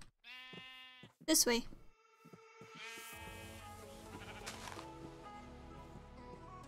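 Sheep in Minecraft bleat in several sharp, wavering calls, one loud burst standing out, with a game soundtrack and other noises underneath while a person speaks briefly.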